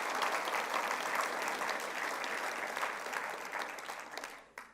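A church congregation applauding together, a steady, moderately distant wash of clapping that holds for several seconds and thins out near the end.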